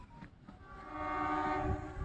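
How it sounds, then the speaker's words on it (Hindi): A toy train on the mountain railway toward Shimla rumbles past in the hills, its horn sounding in a sustained tone over faint rolling track noise at moderate distance. "ट्रेन चली गई।"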